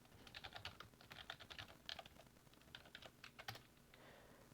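Code is typed on a computer keyboard in quick, uneven bursts of soft, close key clicks with short pauses between them.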